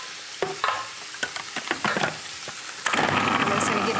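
A Breville food processor blending curry spice ingredients, including cumin powder, after clattering lid handling, then a steady loud whirring roar for the final second, close and alone.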